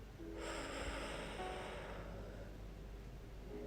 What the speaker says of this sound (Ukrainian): зроби глибокий вдих носиком, а тепер повільний видих ротиком